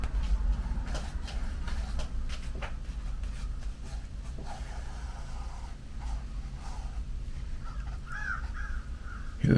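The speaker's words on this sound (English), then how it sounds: "Hear the birds outside, the crows." Crows caw now and then from outdoors, fairly distant, over a steady low background rumble.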